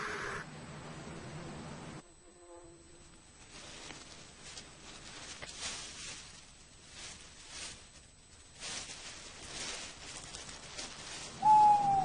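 A barn owl's hooting calls sound in a quiet night setting, faint and spaced out against a soft background hiss, with a brighter call near the end.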